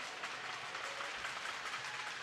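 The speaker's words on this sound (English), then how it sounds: "Folks, let's give a big hand of applause to both of these teams, the Canucks and the Millionaires" Audience applause for blind hockey teams after a gold medal game, a soft, even wash of clapping heard at a distance, steady and uninterrupted.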